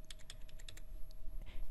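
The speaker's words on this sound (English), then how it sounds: "Then with the arrow keys, I'm just going to push up." Computer keyboard arrow keys are tapped in a quick run of about a dozen crisp clicks, close and fairly quiet, with no voices.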